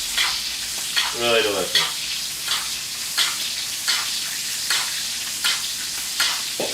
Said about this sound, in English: So all our butter's melting, starting to foam, and I'm just going to go over the top of the steak